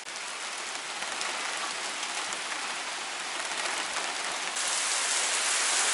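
Steady rain falls on surfaces outside a workspace where a rear bumper is being built for a 1998 Jeep Cherokee XJ, a dense continuous hiss with no talk, growing slightly louder and brighter toward the end.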